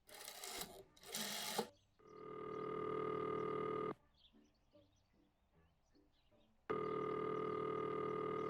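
Telephone ringing after a number is dialed in the video game Martha is Dead, with a dialing burst first and then two long steady electronic ring tones separated by a quiet pause.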